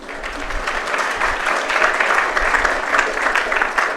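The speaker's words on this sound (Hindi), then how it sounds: "आप सबके लिए एक जोरदार ताली आप सब बजाएं" An audience at a summer camp gathering at Shantikunj, Gayatri Vidyapeeth, breaking into steady, vigorous applause, a dense wash of many hands clapping that holds strong throughout with no talking.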